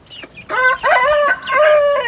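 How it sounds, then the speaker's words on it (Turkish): A black pearl Arabian chicken with a slightly lame leg crows loudly and close by inside a coop, a drawn-out cock-a-doodle-doo in several rising and falling phrases with short clucks at the start. "Burada da siyah inci Arap tavuğumuz var."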